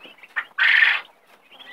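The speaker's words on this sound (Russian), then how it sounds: "Кстати, вот наши индюшечки." Close, nasal calls from domestic turkeys, with short chirps followed by a louder, sustained squawking call, then softer chatter.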